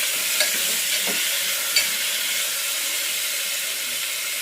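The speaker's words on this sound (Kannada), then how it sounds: "ಹಾಗಾಗಿ ನಾನು ಕುಕ್ಕರಲ್ಲೇ ಫ್ರೈ ಮಾಡ್ಕೊತಾ ಇದ್ದೀನಿ" Tomato and field beans fry in a pressure cooker, giving a steady, close sizzling hiss that runs throughout with a couple of brief stirring clicks and no talking.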